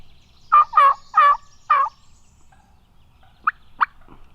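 A young male wild turkey (jake) gobbles in a quick rattling burst of four calls, followed by two short, sharp clucks, fairly close in an otherwise quiet setting.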